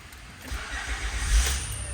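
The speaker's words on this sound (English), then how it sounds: "let's go ahead and start the car" A car engine cranks and catches on a vehicle being checked for P0420 and P0430 catalytic converter codes, a steady low rumble rising near the end, close and without any talk.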